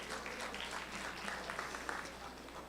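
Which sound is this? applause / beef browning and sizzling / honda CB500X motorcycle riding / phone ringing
applause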